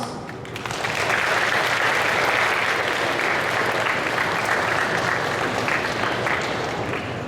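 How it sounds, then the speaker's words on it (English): Sustained, resounding applause from an audience at a school graduation ceremony honouring parents and guardians, a dense steady wash of many hands clapping that swells quickly and holds loud throughout. "resounding applause"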